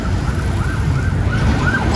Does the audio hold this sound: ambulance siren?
yes